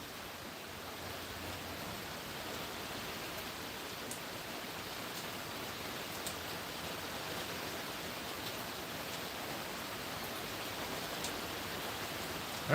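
Rain falls steadily on a desert homestead, a continuous broadband hiss that holds even and dense throughout, with faint scattered patters and no talk.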